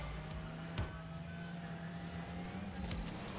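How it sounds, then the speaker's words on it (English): Car engine in the video game Rocket League, a steady low drone with a faint whine that holds throughout, with two brief bumps in loudness. "I hear his car."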